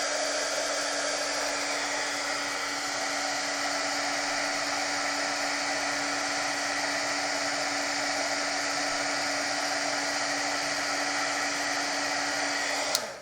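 A heat embossing tool blows on dark black cardstock with a steady, close whirring hum and an even pitched whine, running without a break until it cuts off at the very end.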